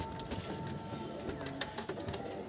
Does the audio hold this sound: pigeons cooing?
yes